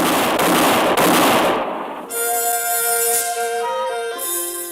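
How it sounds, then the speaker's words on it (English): A radio drama shootout with frontier gunfire: a loud burst of rapid, crackling shots in the opening seconds, then dropping away as sustained music tones take over. "the moonlit clearing thundered to the sound of gunfire"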